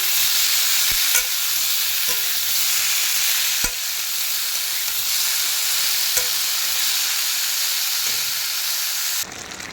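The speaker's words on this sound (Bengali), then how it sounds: "এবার পুরুলটা দিয়ে দিচ্ছি দিয়ে ভালোভাবে কষিয়ে নিচ্ছি" Potatoes and pointed gourd (potol) stir-fried in spice paste in a pan give a steady, close sizzle and frying hiss throughout, broken by a few sharp spatula clinks against the pan, with no talking.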